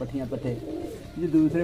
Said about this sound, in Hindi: इनमें ये कबूतर जो बोल रहा है पीछे दोस्तों